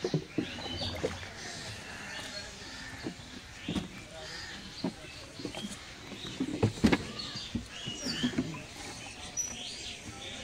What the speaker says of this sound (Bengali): তো নৌকো এবার পাড়ে চলে এসছে, দেখো এবার নৌকাটা পাড়ে দাঁড় করানোর পালা।